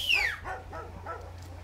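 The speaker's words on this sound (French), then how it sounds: "les chiens vont être maîtrisés par le maître des lieux parce qu'on les entend" Dogs on a cocoa farm give a high yelp followed by several rapid barks in a quick series, moderately close and clear over a low background hum.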